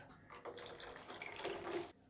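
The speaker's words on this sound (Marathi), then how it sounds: "अजून थोडंसं पाणी ओतूया आपण त्याच्यात" Water is poured into a mixer grinder jar in a splashing, gurgling stream lasting under two seconds, close and fairly quiet, then stops abruptly.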